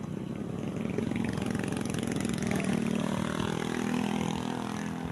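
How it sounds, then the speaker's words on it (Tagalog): A motorcycle engine runs close by at a steady idle, a buzzy, rattling putter that holds even and loud from start to finish, with no voices. "May motor man."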